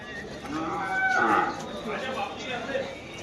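A cow at a livestock market moos once, loud and close, in a long drawn-out low call over a steady background murmur.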